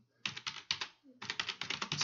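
Rapid keystrokes on a computer keyboard, close and clear, in two quick bursts of typing separated by a brief pause, with no one talking.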